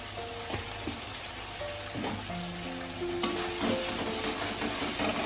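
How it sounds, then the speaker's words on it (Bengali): Spices with chili powder and turmeric fry in a pan with a continuous close sizzle, punctuated by a few spatula scrapes and stirring clinks, with no voices. "দিয়ে মশলাটাকে আমি মিনিট 2-3 কষিয়ে"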